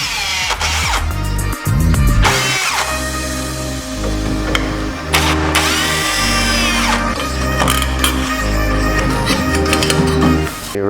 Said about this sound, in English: you'll remove these 2 Phillips screws with your drill.